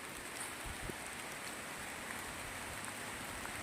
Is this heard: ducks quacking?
no